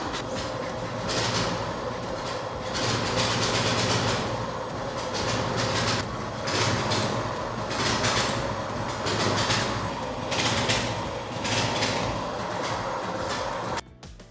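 An ATV buggy being converted into a drift go-kart with a custom race pedal runs close by, its engine revving loudly and steadily with rising and falling throttle surges, then cutting off abruptly at the end.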